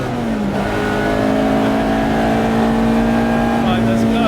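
Ford Mk1 Twin Cam Escort continuation car, built by Boreham Motorworks, heard from inside at steady high revs on track, its engine note droning loud and constant throughout.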